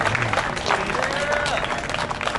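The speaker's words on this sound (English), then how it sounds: "Can I get a round of applause for that loud acknowledgement, please?" Audience applause at a rally, steady clapping and crowd noise with a voice briefly audible over it.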